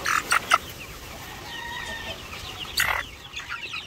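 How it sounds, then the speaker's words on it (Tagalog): White leghorn and barred rock chickens cluck at close range, with a few sharp clucks at the start and another burst near the end over a quieter farmyard background. "So ito, pure white leghorn to."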